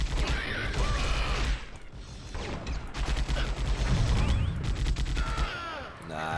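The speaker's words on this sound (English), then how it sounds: "The auto gun is, I think, my favourite gun in this game." Rapid automatic gunfire from a video game auto gun rattles in bursts with clicking mechanisms, loud and close, pausing briefly midway and then resuming, with a voice talking over parts of it.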